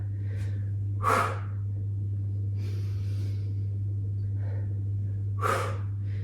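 Yoga breathing during a HIIT yoga session, two sharp forceful breaths a few seconds apart with softer airy breaths between, close and alone over a steady low hum.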